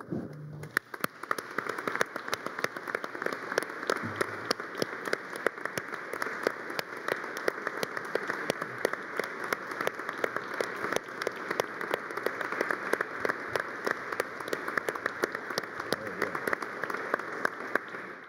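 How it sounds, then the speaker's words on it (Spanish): Dense, sustained applause from a crowd, a continuous wash of clapping with no pauses. "queremos de manera simbólica agradecerles a todos ustedes con el aplauso"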